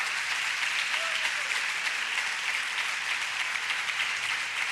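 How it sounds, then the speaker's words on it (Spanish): Church congregation applauding at an Assemblies of God service, a steady dense wash of clapping that holds evenly from start to finish with no voices over it. "Fuerte ese aplauso, por favor."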